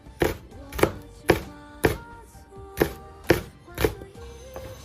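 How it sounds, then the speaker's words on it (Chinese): Knife chopping washed, stemmed green and red chili peppers into rings on a cutting board: about nine crisp, evenly spaced chops close up, with no talking. "准备一把青红线椒，洗干净之后去蒂，改刀给它切成线椒圈"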